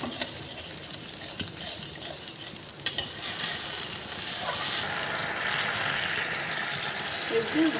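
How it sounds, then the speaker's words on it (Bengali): A garlic paneer sauce stirred in a pan makes a steady close sizzle with scraping and clinking from the spoon, one sharp knock near the middle and faint speech underneath. "আর এটা আমি ভালো করে একটু নেড়ে দেবো আর একটু হালকা জল দিয়ে দেবো।"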